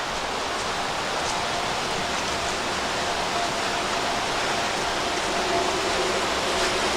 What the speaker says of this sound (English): Waterfall dead ahead.